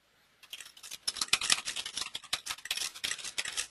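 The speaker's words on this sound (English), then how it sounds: "I'm typing a message to Jen, who's our project manager here." Rapid, uneven clatter of computer keyboard keys being typed on, close and fairly loud, with bursts of clicks running continuously after a brief quiet start.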